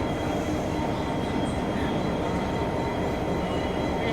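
An SSR G514 locomotive at Strathfield station, towing a train. It makes a loud, steady rumble of wheels and cars that lasts the whole stretch, close by, with no voices.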